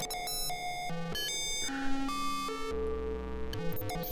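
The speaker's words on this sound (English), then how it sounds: "It's a spring reverb." A spring reverb unit rings out under a run of clean synth tones and beeps, each note trailing a short metallic splash as the tones step up and down over several seconds.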